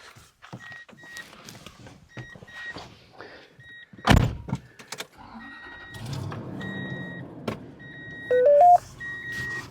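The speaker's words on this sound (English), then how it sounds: "When I start up the truck," A truck at a canyon campsite: a sharp door thud, a few warning chimes, and an engine cranking into a low, steady idle, all close by.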